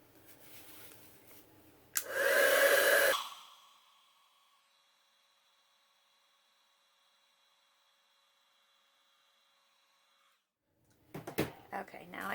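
Heat tool melting gold embossing powder on a stamped card: a loud blowing whoosh lasting about a second, then a faint steady whine that fades out before a few rustles.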